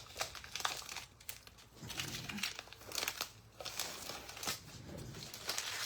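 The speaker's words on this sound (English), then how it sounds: "Let's take the tape off." Tape is peeled and pulled off a stencilled glass jar, giving soft, close crinkling and sticky tearing sounds in short irregular bursts, with no talking.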